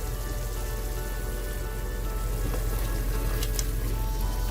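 Tomato and dry-ground spice powder cooking in oil in a pan for a South Indian-style chicken curry with fennel and coconut milk, a dense steady sizzle and bubbling over medium-low heat, with no voices.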